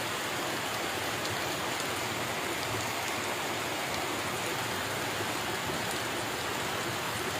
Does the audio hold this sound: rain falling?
yes